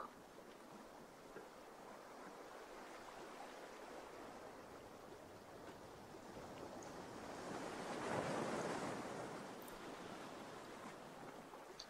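Ocean waves roll onto the shore with a constant soft wash that swells into a louder surge toward the end, distant and unaccompanied by voices.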